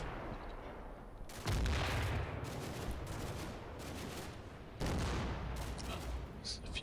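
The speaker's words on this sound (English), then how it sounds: "there's a few more mortar rounds landing there" Mortar rounds slam down in a World War II Eastern Front wargame on snowy ground, two heavy booming impacts a few seconds apart over a constant low rumble of distant gunfire.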